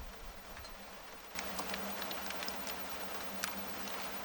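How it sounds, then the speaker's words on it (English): Heavy rain starts pouring outdoors, swelling abruptly into a dense, steady patter with scattered sharper drops hitting nearby surfaces. "It's really starting to rain now."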